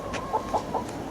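Chickens at a Birmingham allotment cluck in three short, evenly spaced bursts, close by and fairly clear over a faint background.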